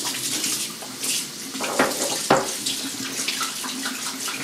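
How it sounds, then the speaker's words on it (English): A tap runs steadily into a sink during a quick rinse after a head shave, close and continuous, with a few splashy surges as water hits hands or skin. "I'm gonna rinse real quick here."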